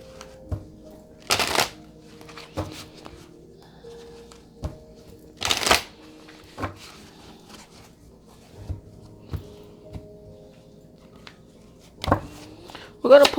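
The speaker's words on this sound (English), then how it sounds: "We're going to pull cards on all of these. I'm just getting all the cards." A tarot deck is shuffled and handled: several sharp riffling bursts of cards, with softer taps and card slides in between. A voice talks quietly at times underneath.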